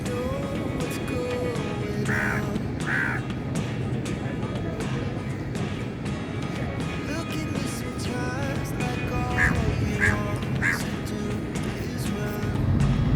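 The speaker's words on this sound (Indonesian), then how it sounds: "Menambah khasanah dari Masjid Putrajaya yaitu adanya burung gagak." Crows caw a few times at the Putrajaya Mosque in Malaysia, short harsh calls in two small groups heard over steady outdoor traffic and crowd rumble, with voices in the background.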